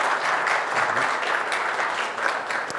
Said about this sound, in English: Let's give a round of applause for Karsten.